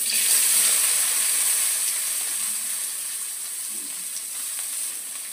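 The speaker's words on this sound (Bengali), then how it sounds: "তেল গরম হয়ে গেছে, রসুন দিয়ে দিয়েছি, এবারে পেঁয়াজ দিয়ে দিচ্ছি।" Onions fry in hot oil with garlic for momo filling, a close, bright sizzling hiss that starts strong and eases slightly as it settles, with no talking.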